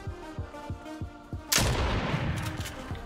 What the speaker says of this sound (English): I'm testing out my gun